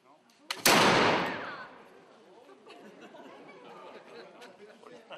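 A single loud gunshot from soldiers of the year IX reenactment troupe at La Canourgue, a sharp blast with a long decaying rumble, followed by murmuring crowd chatter and faint voices.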